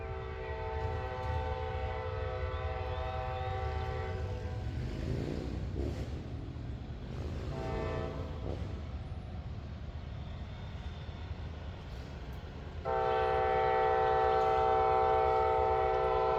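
A train passes a grade crossing on a Southern Railway line, its low engine rumble steady throughout while the horn sounds in long blasts, then returns loud and sustained near the end.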